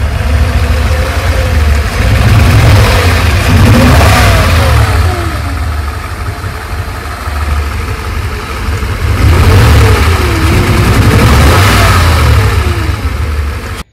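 Mercedes M119 V8 with an ignition misfire, idling roughly with a lumpy low rumble and then revving up twice in long sweeping rises and falls, loud and close, with no one speaking.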